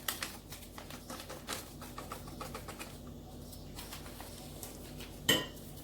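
Cocoa, baking powder and flour mixed in a bowl for a chocolate cake make light clinks and scraping taps of a utensil against the dish, close, irregular and fairly soft, with one sharper knock near the end.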